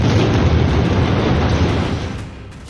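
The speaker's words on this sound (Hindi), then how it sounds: "इस वीडियो में भी साफ नजर आ रहा है कि इजराइल के टैंक पर निशाना लगाया गया है।" An Israeli tank is struck and explodes in a sustained, roaring blast that fills the whole clip with dense rumbling noise before tapering slightly toward the end.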